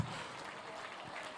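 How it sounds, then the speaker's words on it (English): Crowd at a 75th birthday reception clapping steadily, a soft continuous patter of applause that neither builds nor fades. "I want the applause to increase as the numbers are increasing."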